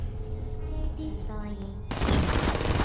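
Turret gunfire in the Portal video game erupts suddenly as a loud, sustained burst of rapid shots that drowns out the preceding quieter game sounds and voice, continuing to the end.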